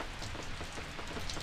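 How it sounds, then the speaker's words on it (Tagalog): Rain falling outdoors near a lighthouse in Ilocos Norte, a steady soft hiss of drops pattering on surfaces, faint and unbroken, with no voices. "Umuulan pa eh."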